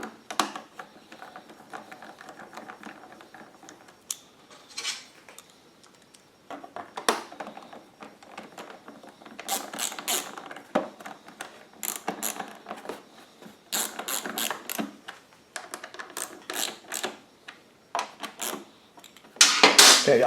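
Screws being tightened with a hand tool while fitting an extended run time fuel kit onto a Wen 2500 generator: intermittent ratcheting clicks and mechanical rasps in bursts, close and fairly loud, with quieter handling noise between.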